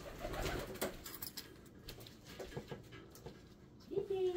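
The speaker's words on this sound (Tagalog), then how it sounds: "Tweety Bird? Dito siya sa kwarto?" A small pet bird indoors in a bedroom gives soft, faint calls amid quiet room noise, ending with a clearer coo-like note; a person speaks softly at times.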